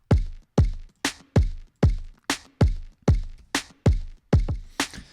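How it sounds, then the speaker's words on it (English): A punchy drum loop of three layered deep, booming kicks with snappy hits, repeating in a steady, driving rhythm. "So all the drums together sound like this."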